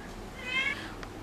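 A faint, brief cat meow rises over quiet background hum, with no one speaking.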